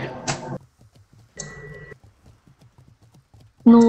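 Rhythmic clip-clop of a video game horse's hooves, quiet and regular, running between two louder bursts of other game sound and ending on a loud final burst.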